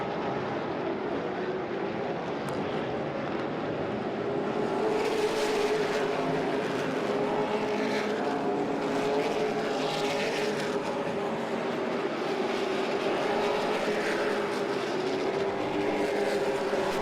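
Late model stock cars practice laps at Hickory Motor Speedway in North Carolina, a steady, moderately distant engine drone rising and falling as cars pass, with no talk.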